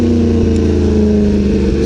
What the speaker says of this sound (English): These downshifts are just godly